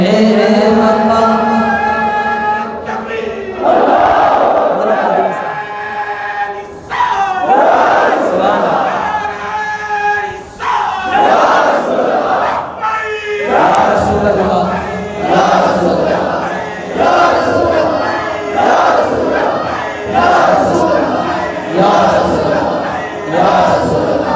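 A large religious gathering chants a slogan in unison, repeated loud surging shouts from many voices in rhythmic waves, with a leader's voice calling between the responses.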